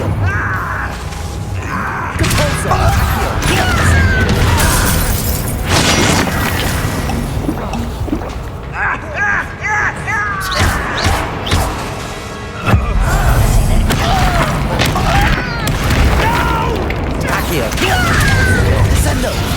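Bombarda spell explosions and magical combat in Hogwarts Legacy, dense booms, crashes and clanking impacts layered throughout a busy battle, with spoken incantations mixed in.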